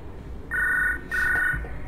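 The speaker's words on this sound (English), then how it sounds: "And the phone is ringing incessantly." A telephone rings in the prison video game Hard Time 2D, two electronic trilling bursts of about half a second each with a short gap between them, fairly clear over a low background hum.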